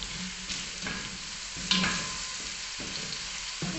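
Onions and garlic frying in oil in a pot for beef pilau, a continuous sizzle broken by several scraping stirs, one louder clatter midway, no voices.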